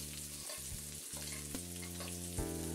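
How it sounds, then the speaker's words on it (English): Steady, dense sizzling of garlic frying in hot oil for Filipino garlic fried rice, loud and close, with a low hum underneath and a few soft clanks of stirring. "in goes the garlic. Listen to that sizzle."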